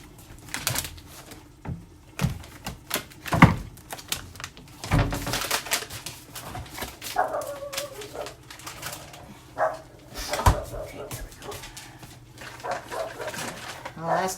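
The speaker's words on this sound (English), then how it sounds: "that's Carmen out there barking at something" A dog barks outside while someone cooks a one-pot stuffed pepper casserole in a kitchen: sharp bursts come irregularly over clattering and nearby talk.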